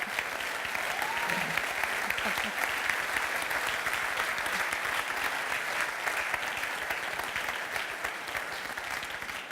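Audience applause at a WinCC OA User Days keynote in Vienna: a dense, sustained wash of clapping from a large crowd that stays loud and even throughout.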